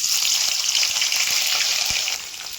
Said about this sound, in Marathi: पनीर तळून घेते तेलामध्ये.